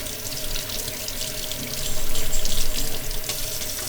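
Running hot tap water splashes steadily onto an Arlen Ness Stage 1 motorcycle air filter, rinsing it from the inside out, a continuous hissing flow that grows a little louder midway.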